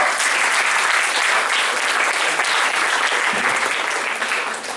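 A sizable audience at a Toastmasters meeting bursts into loud, dense applause for a speaker, keeping up a steady wash of clapping for the whole stretch before it starts to ease at the very end.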